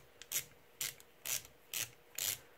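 Five evenly spaced ratcheting clicks from a socket unscrewing the brass nozzle of a Prusa i3 MK3 3D printer, each a short, sharp burst close by in a quiet room.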